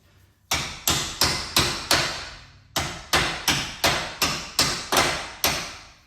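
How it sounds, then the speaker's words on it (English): Eleven sharp hammer taps ring out on steel bolts being driven into the splines of a new shock absorber on a Vauxhall Vivaro van hub, struck at a steady rhythm with a short pause after the first four, close and loud. "Give them a tap so the splines go into the new shock."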